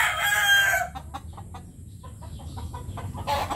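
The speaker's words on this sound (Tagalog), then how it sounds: "Brood stag ito, pure Mount Banahaw line na Butcher." A pure Mount Banahaw line Butcher gamefowl brood stag clucks and gives a short crow-like call up close, followed by a few quieter clucks against light farmyard background.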